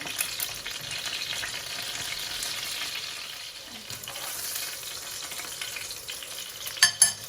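Fish and potato fry in a pan with a steady, close sizzle and crackle, punctuated near the end by a couple of louder spatters or stirring clatters.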